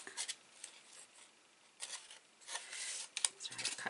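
Scissors snipping a V-shaped notch into paper for a gift stationery box, several quick quiet cuts in irregular bursts, close up and faint, no speech.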